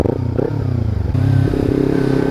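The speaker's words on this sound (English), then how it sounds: "would you listen to that popping noise?" Kawasaki Ninja 300 fitted with an Akrapovic exhaust, running close by with a rough, pulsing engine note broken by irregular pops and crackles from the exhaust, no voices.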